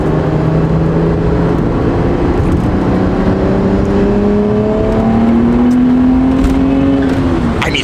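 A BMW 135i pulls under partial throttle, the engine tone rising steadily through a gear, loud and close from inside the car, ending in a brief shift.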